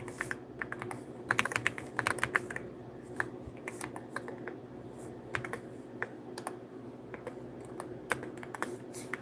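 Computer keyboard typing, close and fairly quiet, irregular bursts of rapid key clicks with brief pauses, no voices.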